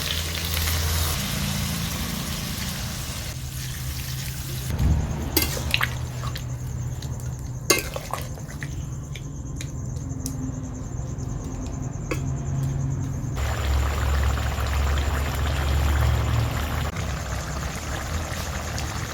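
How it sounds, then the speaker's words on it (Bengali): Water is poured into a hot pan of jackfruit and meat curry, bringing a steady loud sizzle and bubbling hiss that shifts and continues, with brief clinks of a utensil partway through. "দেখো, এবার এতে আমি দিয়ে দেব পরিমাণ মতো জল। দিয়ে দিচ্ছি জল।"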